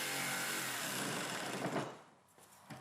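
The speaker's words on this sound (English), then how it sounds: "So I had to drill it out and then use, yep, that's right, my favorite jigsaw." A power saw, a jigsaw cutting wood, buzzes loudly and steadily close by, then trails off as the cut finishes, leaving quieter workshop noise.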